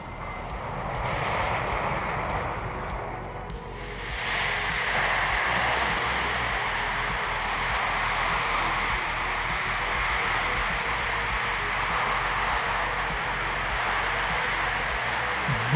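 A Kerbal Space Program rocket engine fires continuously as its thrust vector ring is swung in circles at rising speed, giving a loud, steady, broad roar that swells after a few seconds and keeps burning evenly.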